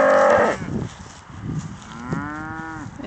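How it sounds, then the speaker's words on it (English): Scottish Highland cattle on a farm give a loud, close, drawn-out moo, followed by softer lowing and a second long, sliding moo. "Cattle are very curious."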